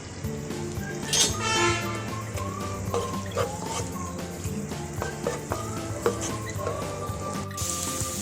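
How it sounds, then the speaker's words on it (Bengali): Green chillies frying in a generous amount of oil for a bitter gourd and prawn stir-fry, with a continuous soft sizzle and occasional utensil clatter under background music. "আমি একটু পরিমাণে তেল বেশি দিয়ে দিচ্ছি সাথে কাঁচামরিচ দিয়ে দিচ্ছি"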